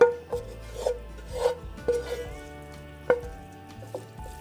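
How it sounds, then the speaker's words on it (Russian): Cooked rice being stirred through fried vegetables in a pan, with soft scraping and rubbing strokes of a utensil at an uneven pace, fairly close and moderately quiet over a low steady background hum. "Все, перемешиваем, пока рис горячий."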